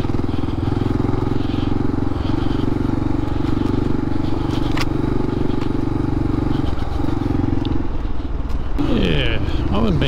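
A modified dirt bike runs on a dirt track, its engine droning steadily and loudly with a shift in pitch near the end, while wind buffets the mic.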